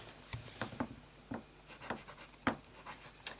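A Montblanc fountain pen with a medium nib scratches across paper in short, quiet strokes, each stroke a brief soft rasp separated by pauses, close up and faint with no voices.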